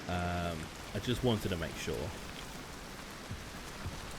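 Steady rain hisses across the soundscape of the video game Hunt: Showdown. It continues as a soft, even wash beneath a man's brief remark and occasional faint game noises.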